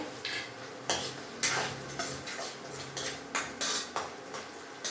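A spoon scrapes and stirs chana dal and urad dal tempering in hot oil in a pan, with repeated rhythmic metallic clinks over a soft sizzle, close and fairly quiet.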